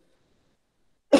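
A single deliberate cough at close range ends the clip, a sharp burst after near silence, performed on purpose as a demonstration in a lung hygiene therapy lesson.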